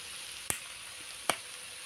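Jackfruit frying slowly in oil over low heat gives a steady, soft sizzling hiss, broken by two brief scraping knocks of stirring.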